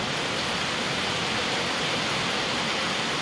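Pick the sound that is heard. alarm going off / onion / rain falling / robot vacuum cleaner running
rain falling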